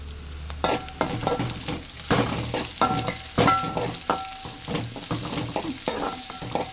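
Ground coconut paste with fennel, turmeric and pepper frying in a pan, a crackling sizzle broken by frequent stirring scrapes and taps in an irregular rhythm.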